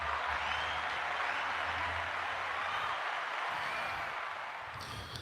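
Studio audience applause on a live show, a dense steady wash of clapping that holds evenly and then tapers slightly at the end.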